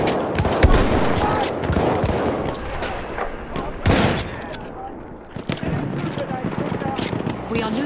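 Sustained machine gun fire and scattered gunshots in a battlefield video game, loud dense bursts filling the scene, with voices shouting over the shooting.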